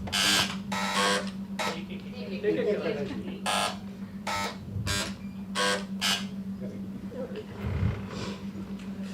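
Quiz buzzers sound in short sharp bursts, one after another, during a check at an intercollegiate TB quiz. A steady low hum runs underneath and people talk around the buzzes.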